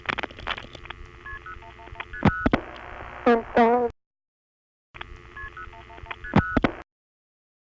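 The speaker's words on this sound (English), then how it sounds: "Right after the Belvedere NX1 cuts through, there is the sound of an MF digit." An MF0 multifrequency digit tone on a 1976 NX1 crossbar exchange call in Belvedere, New Jersey, sits among paired switching tones and clicks on a telephone line, with a brief voice and a silent gap between two bursts.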